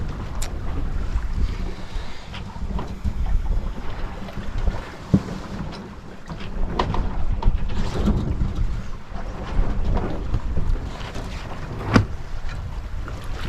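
Wind blows across a sailing boat at sea, a loud, gusting roar with buffeting on the microphone, broken by occasional knocks and splashes of the hull.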